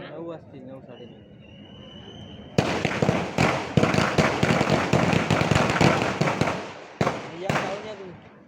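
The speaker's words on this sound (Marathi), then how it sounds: "हे विजयाचे फटाके आहेत" After someone speaks at an election victory rally, a long string of firecrackers bursts in rapid, crackling succession, loud and continuous, with brief gaps as his speech resumes.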